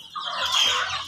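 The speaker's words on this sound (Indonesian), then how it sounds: "Ini ayam Filipina ya." Filipino chickens penned in a coop give a brief burst of clucking and squawking, close and fairly loud, lasting about a second.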